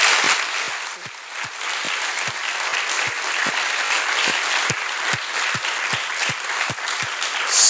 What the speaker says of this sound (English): let's give Jessica another great round of applause